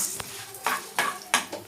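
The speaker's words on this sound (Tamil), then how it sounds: "நல்லா வறுத்து எடுத்துடலாம். நல்லா பொரியட்டும்." Chana dal frying in a pan while being stirred, with a faint sizzle broken by several sharp scraping clatters of a spoon against the metal.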